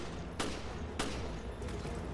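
Two sharp gunshots crack out about half a second apart in the Resident Evil Revelations video game, then softer shots follow, all fairly quiet over a steady low background.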